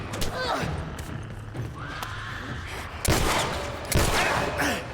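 Gunfire in The Last of Us Remastered on PS4: two sharp, loud shots ring out a second apart against game ambience, with a voice talking over them.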